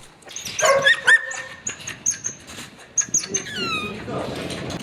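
Police service puppies at the Khmelnytskyi canine training centre give a run of high, squeaky yips and short barks, close and lively, overlapping in quick bursts.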